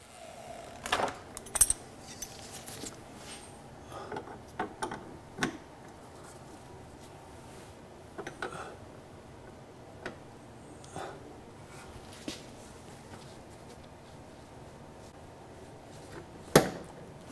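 A Rust Buster vibration tool works on a rusted, stuck fitting, giving quiet, scattered metallic rattles and sharp knocks spread over the clip, with one louder hit near the end.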